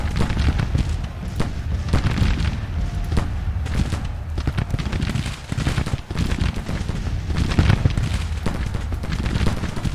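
Battle in Grand Tactician: The Civil War, with loud rolling volleys of musket fire and deep artillery booms crackling and thudding continuously across the field.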